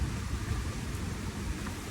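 Rain falls as a steady, moderate wash of noise with a low rumbling undertone, continuous and fairly close, with no voices present.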